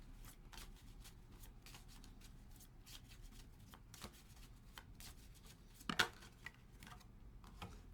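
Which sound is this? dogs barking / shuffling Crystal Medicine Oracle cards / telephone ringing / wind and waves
shuffling Crystal Medicine Oracle cards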